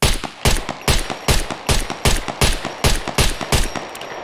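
Nine evenly spaced 9mm handgun shots ring out in the survival video game Scum, each a sharp loud crack with a short tail, fired at a steady rapid pace with no talk.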